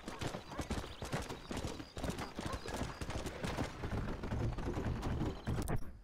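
A horse gallops in the Western video game Red Dead Redemption, its hooves beating in a fast, continuous clip-clop rhythm, fairly close and steady throughout, with faint game sounds beneath.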